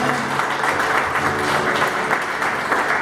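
A church congregation applauds during an evening service, a dense steady wash of clapping filling the room for the whole stretch, with faint voices or music low underneath.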